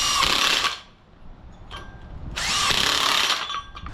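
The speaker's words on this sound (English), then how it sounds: "Let's just spin the nuts on, make sure everything's gonna tighten up" Power tool spinning nuts onto a transmission mount during a 4R100 swap into a 1951 car, two close whirring bursts separated by a brief lull with faint clanks.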